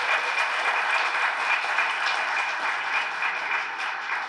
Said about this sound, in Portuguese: Peço novamente uma salva de palmas, por favor.